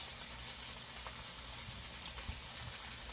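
Filet mignon steak searing in a hot pan gives a steady, close hiss and sizzle that runs unbroken throughout, with faint low clatter beneath.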